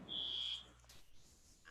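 A malfunctioning fire alarm sounds in the background as one loud, steady electronic tone lasting about half a second, then cuts off and leaves a quiet room hum.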